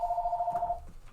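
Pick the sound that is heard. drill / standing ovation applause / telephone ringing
telephone ringing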